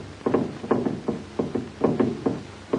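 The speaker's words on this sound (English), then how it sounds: "Is that knocking?" Muffled knocks come from beneath wreckage, falling in irregular groups of two or three dull thuds that repeat over a hissing background with no voices.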